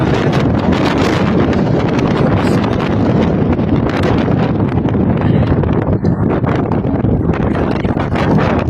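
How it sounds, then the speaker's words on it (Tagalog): Strong wind blasts during a dusty sandstorm in Kuwait, a loud, continuous roar of gusts battering the microphone with no letup, rough and rumbling throughout. "Grabe yung hangin."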